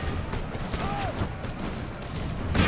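Scattered musket volley fire from line infantry in the Napoleonic-era strategy game Imperial Splendour, a dense crackle of overlapping shots across the whole stretch with a heavier burst near the end, no talk.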